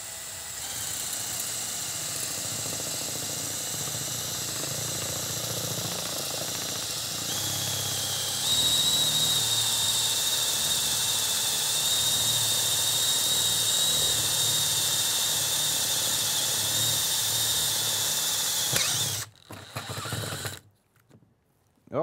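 A drill bores into wood with a Forstner bit, giving a loud steady motor whine that rises in pitch partway through, then breaks through and stops, ending in quieter rattling and silence.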